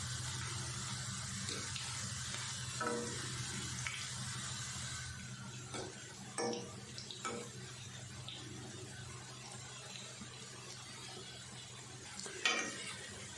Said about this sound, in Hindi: चार से 5 मिनट में अच्छे से पकौड़े फ्राई हो जाते हैं।